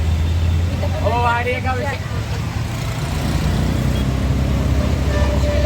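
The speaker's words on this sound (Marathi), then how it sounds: "एवढं ट्रॅफिक आहे ना" Road traffic heard from inside a moving vehicle: a steady low rumble of engines and tyres, with a brief tonal whine or horn-like sound early on and a voice speaking over it.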